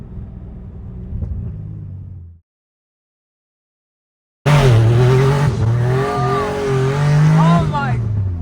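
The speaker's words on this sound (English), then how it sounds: "That drift was crazy." A low engine rumble from an RWB Porsche 993 cuts to silence, then a loud, wavering tire squeal over a roaring engine as it drifts, close up, lasting several seconds.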